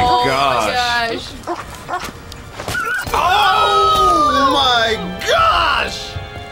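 A dog yelps and whimpers in a film scene, high pained cries repeating over several seconds, heard loudly through playback alongside screaming and groaning voices.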